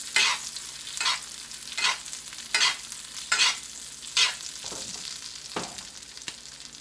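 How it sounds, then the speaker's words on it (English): A ribeye steak sizzles in a hot pan as it is basted, a steady frying hiss broken by a regular series of sharp, bright spoon splashes that flare up loudly, close and unaccompanied by voices. "You can turn your heat off and just baste your steak a bit."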